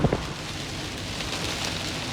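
Heavy rain pours down in a dense, steady hiss, with a couple of sharper knocks at the very start.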